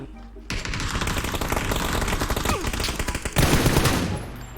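Rapid automatic gunfire from the PUBG video game rattles in sustained close bursts, with a louder volley near the end, while a voice speaks briefly underneath.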